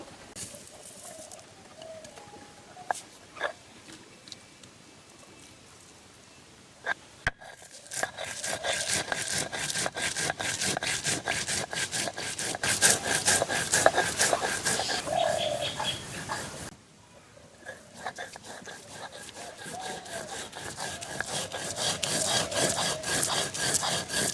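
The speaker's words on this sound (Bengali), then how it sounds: "এখানে আমি ধনিয়া হস আর গোটা জিরা নিয়েছি এখন আমি বেটে নেবো" Onion, coriander seeds and cumin are ground by hand on a grinding stone with a steady, rhythmic rasping scrape of back-and-forth strokes. The grinding is close and moderately loud, with a brief pause midway before the strokes resume.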